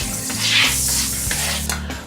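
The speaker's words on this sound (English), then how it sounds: "Sometimes I use like the non-stick spray like this" Non-stick canola oil cooking spray hissing into a pan for French toast, a close steady spray lasting about two seconds over a low kitchen hum.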